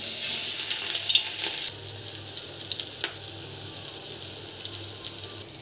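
Stuffed kakrol (spiny gourd) frying in mustard oil over a low-to-medium gas flame, with a bright hiss that drops to a softer, steady sizzle punctuated by a few sharp pops, no talking.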